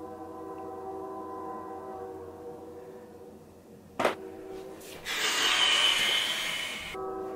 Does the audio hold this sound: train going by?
yes